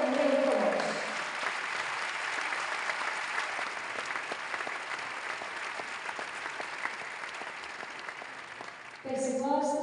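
Concert crowd applauding at a live tribute show in La Vila Joiosa, a long, even wash of clapping that fills the space, with music or a voice briefly at the start and returning near the end.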